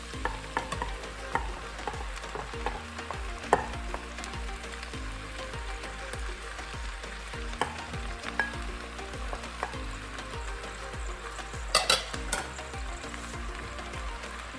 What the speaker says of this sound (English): next we're going to be adding the potatoes.